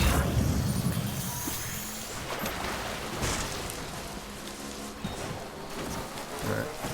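Steady rain hisses in the video game Death Stranding, a fairly loud broadband wash that runs the whole time beneath some faint low rumbles.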